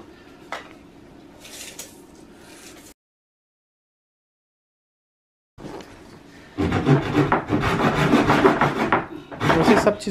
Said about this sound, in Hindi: मैंने ये बगल वाले से आरी लेके आया है इसको काटने के लिए